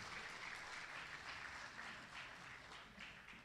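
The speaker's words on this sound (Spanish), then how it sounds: "Fuerte el aplauso para los titulados de la carrera de Ingeniería Civil Industrial." Applause at a graduation ceremony for industrial civil engineering graduates: a faint, distant, steady patter of many clapping hands that tapers slightly at the close.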